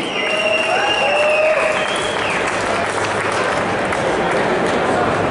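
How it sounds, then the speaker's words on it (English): An audience at a vape convention in Edmonton gives a sustained round of applause, dense clapping throughout with a few faint electronic pings and voices in the crowd. "one last round of applause"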